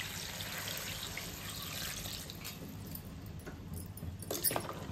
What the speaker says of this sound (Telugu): అండ్ ఇప్పుడు మనం వాటర్ వేసుకోవాలి.